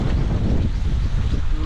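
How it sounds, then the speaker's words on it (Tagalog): Steady, loud wind roars and buffets the microphone at the seashore, with a low rumbling wash of big waves underneath and no clear talking. "mahangin na dito tsaka malaki na yung mga alon"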